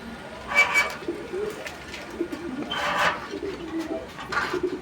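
Lakkha pigeons cooing in a loft, with several soft, throaty coos rising in separate bursts over a steady background murmur.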